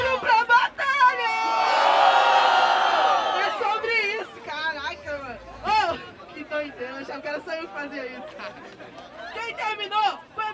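A crowd at a rap battle roars and cheers loudly for a few seconds, then shouting and chatter continue with overlapping voices calling out.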